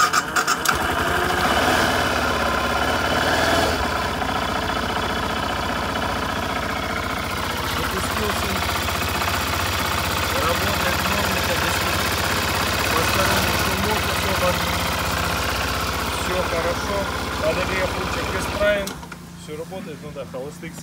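A BMW F650CS motorcycle engine cranks, catches and idles unevenly, with a steady mechanical rumble running close and loud, while someone talks over it, before the engine cuts out near the end.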